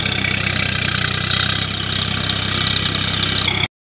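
A Swaraj 744 FP tractor with a rotor attached runs steadily in a paddy field, its loud diesel engine holding a constant idle-like throb with a mechanical knock throughout, close by, until it cuts off abruptly near the end.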